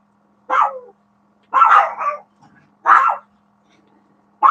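A puppy barks close by in three short, sharp bursts with gaps between, a fourth starting at the end, over a faint steady hum in a quiet indoor room.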